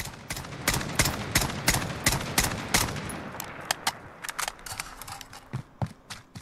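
An SKS semi-automatic rifle fires in Call of Duty Modern Warfare. More than twenty sharp, loud shots crack close by in a rapid, even rhythm, then come more irregularly and with longer gaps toward the end.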